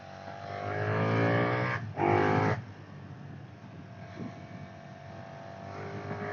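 A Brabus 1300R Masterpiece Edition motorcycle rides on the road, its engine tone climbing under acceleration with a short louder surge, then settling into a steadier cruising drone.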